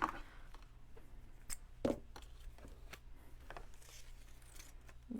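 Scissors snip through paper in a few quiet, crisp cuts with soft rustling between them, close by in a calm room.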